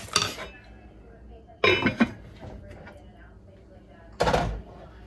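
Pot of vegan red beans and rice set on a stove's back burner, three sharp metallic clanks and scrapes spaced over a few seconds with quiet gaps between, close by.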